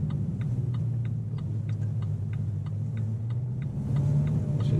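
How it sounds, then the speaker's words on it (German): A car's turn signal ticks in a steady, evenly spaced rhythm inside the cabin during a driving lesson, clear above the low, constant rumble of the engine and road. "Nochmal richtig blinken, so nach unten drücken."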